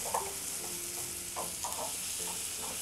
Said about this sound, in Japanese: じゃがいもを加えて少し油を絡める程度に炒めましょう。